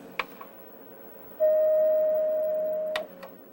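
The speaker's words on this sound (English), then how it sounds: "Now it's displayed again with its companion tones, making the typical bell sound." A clear sustained electronic bell tone with companion tones holds for about a second and a half, steady then slowly fading, with faint clicks before and after.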